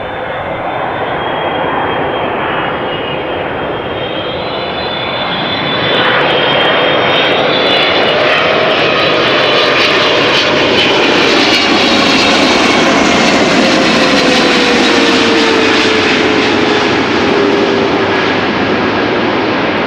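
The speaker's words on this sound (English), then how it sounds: "KLM Flight 736 777-300 arriving from Willemstad, Curaçao, 8 hours and 36 minutes on the way." A 16-year-old KLM Boeing 777-300 jet arriving at Amsterdam Schiphol on the Kaagbaan runway, engine roar swelling and staying loud and close for about twenty seconds with a slowly falling whine.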